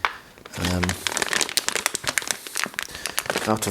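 A plastic bag holding Allen keys crinkles and rustles in a run of dense crackling bursts close to the mic while resin 3D printer parts are being replaced, with short hums of a voice at the start and end.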